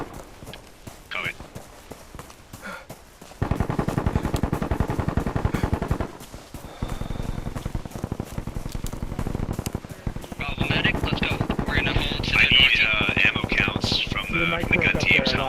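Machine gun fire from gun teams in the video game Bellum: sustained rapid bursts, some loud and close, others more distant, running in long stretches with short gaps between them.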